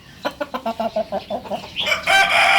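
A champion rooster in Bangkok, Thailand clucks in a quick series of short calls, then bursts into a loud crow.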